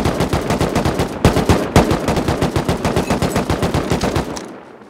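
An automatic turret in the video game Rust fires long, rapid bursts of gunfire, a loud, dense rattle of shots with a brief break near the start before the stream ends abruptly.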